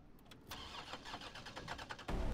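A car engine in Resident Evil 3 cranks and struggles to turn over, a rapid stuttering whir that ends in a loud final kick as the motor catches.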